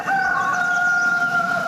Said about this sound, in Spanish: El canto del gallo